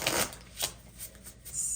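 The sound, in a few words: shuffling tarot cards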